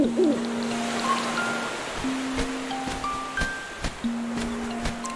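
Soft, repeated hooting of an owl in Zelda: Link's Awakening on Switch, tonal game-style calls in a loose rhythm with light tapping sounds and background game music, no talking.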